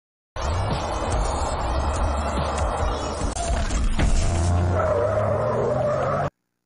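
A car drifting hard at a night-time illegal street race, tires squealing and skidding continuously for around six seconds over a loud revving engine, close and without talk.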